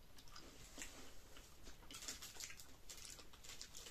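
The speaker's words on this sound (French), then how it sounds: "Et ça croque en bouche." Close, quiet crunching and chewing of a Kinder milk chocolate wafer bar filled with milk and hazelnut cream, crisp bites and mouth sounds repeating irregularly over a soft background hiss.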